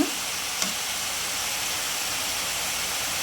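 Onions and tomatoes frying in oil in a pan, a faint even sizzle and hiss with a brief clink near the start, steady and quiet throughout.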